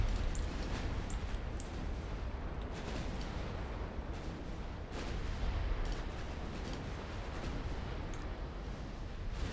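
Rapid naval gunfire from Japanese dreadnought warships in a naval battle game rumbles as a dense, continuous barrage of booms and blasts, heavy and sustained with no voices.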